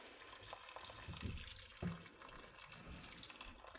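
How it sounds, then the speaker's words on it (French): Lukewarm water is poured from a tap-like stream into a pot of meat for homemade couscous, a steady close splashing flow with a couple of louder gushes partway through. "Donc là, je vais ajouter mon eau."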